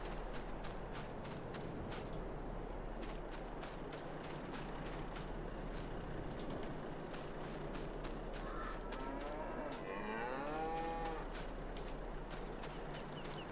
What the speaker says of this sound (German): Kühe sind ganz aufgeregt.